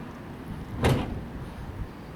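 A car bonnet slams shut in one sharp, solid thud against a quiet outdoor background, with no talking.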